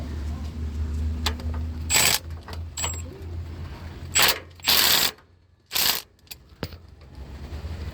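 Impact gun driving a Nissan Pathfinder bolt through two long wobble extensions, several loud short rattling bursts with gaps between them, over a steady low hum.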